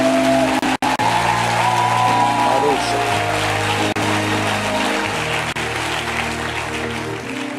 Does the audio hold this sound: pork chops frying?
no